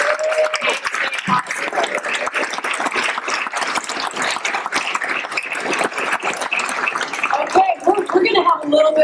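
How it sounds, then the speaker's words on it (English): Dense, continuous applause from a large audience, loud and steady for most of the stretch before thinning out near the end, with a voice briefly audible as it fades. "I again want a round of applause for Pacific Power and the Herald and News"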